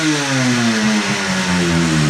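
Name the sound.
restored motorcycle engine revving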